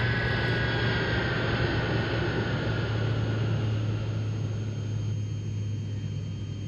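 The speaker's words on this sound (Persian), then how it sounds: "هواپیما فرود می آید." A landing airplane gives a loud, steady engine roar with a low drone and broad rumble that holds throughout, slowly easing slightly toward the end, with no voices.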